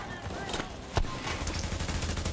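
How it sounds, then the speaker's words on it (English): Rapid automatic gunfire crackles in The Division, a video game, while shooting at an enemy healer in an underground area, with a sharp louder shot near the middle and steady bursts continuing beneath faint game ambience. "Trying to shoot this damn healer"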